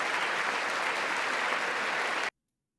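Dense applause fills a legislative chamber during a presidential joint address to Congress, a steady loud wash of many hands lasting about two seconds before cutting off abruptly into silence.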